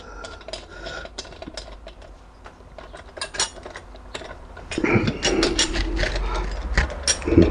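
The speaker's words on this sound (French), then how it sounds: "je le ferai au cliquet" A ratchet turns a socket on the cylinder head of a Yamaha Virago 125 motorcycle: rapid clicking pawl bursts and metallic handling, growing louder and busier in the second half, up close with no speech.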